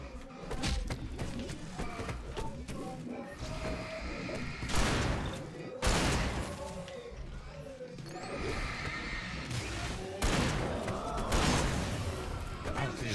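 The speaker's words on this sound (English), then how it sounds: "These guys are somehow surviving by a bunch of freaking shotgun shots." Shotgun blasts in a video game come as several loud, booming shots spaced a second or so apart, mixed with thuds and action noise, while someone talks over the gameplay.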